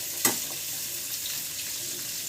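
Jengkol frying in a small amount of oil gives a steady, close sizzle that holds from start to finish, with a brief sharper crackle near the beginning.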